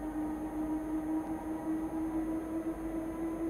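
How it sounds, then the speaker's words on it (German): BR 185 electric locomotive pulling a freight train in Train Simulator 2022, accelerating toward 50 on the Holzkirchen–Wörgl line: a steady low rumble with a sustained electric motor whine, continuous and without speech. "Und wir beschleunigen mal unseren Zug auf die"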